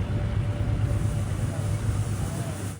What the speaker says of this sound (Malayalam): ഒരു ബോട്ട് അങ്ങോട്ട് പോവുകയാണ്.